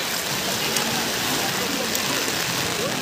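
Continuous dense hiss of rain falling on a beach in Hong Kong, steady and even throughout with no breaks.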